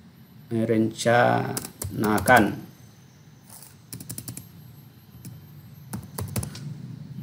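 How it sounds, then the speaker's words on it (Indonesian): Keys tapped on a computer keyboard in short clustered bursts between stretches of a nearby voice, with scattered single clicks toward the end. "Jadi, kita ketik saja di sini."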